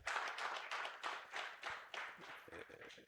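A group claps in bursts for a few seconds at an annual general meeting, steady and fairly close, fading slightly toward the end.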